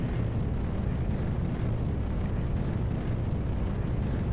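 Rocket launch in Kerbal Space Program at sunrise: a steady, heavy roaring rumble of engine thrust, loud and constant from start to end without any voices.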